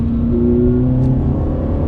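Ferrari F430 mid-engine car, no exhaust modifications, heard from inside with windows up: a steady, loud engine drone held for two seconds, with a slight rise in revs and no talking.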